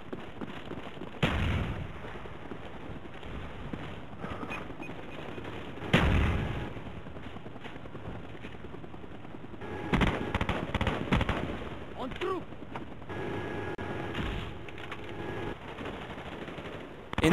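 Enemy gunfire in a Call of Duty match, with bursts of shots and heavy booms scattered across the clip amid constant game noise, the loudest blasts standing out near the start and middle.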